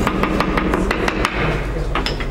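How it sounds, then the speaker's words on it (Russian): A hammer pounds strips of papyrus stalk in a rapid, even run of sharp knocks at a papyrus workshop in Egypt. The blows are close and come at about five per second, with a short pause partway through. "Избавляемся от влажности с помощью молотка и скалки."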